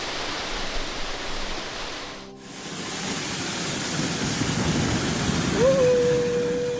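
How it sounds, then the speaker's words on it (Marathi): Constant roar of a waterfall close by at Malshej Ghat in the monsoon, briefly dipping for a moment, with a faint tonal beep near the end. "या धबधब्याकडून"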